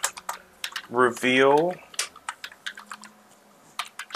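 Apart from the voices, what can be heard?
computer keyboard typing a code in Roblox Jailbreak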